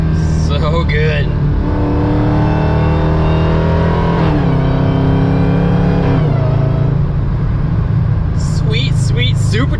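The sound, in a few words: supercharged Hellcat engine in a Dodge Dakota revving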